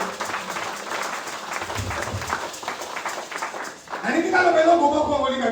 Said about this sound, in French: Acclamons, acclamons le nom de Dieu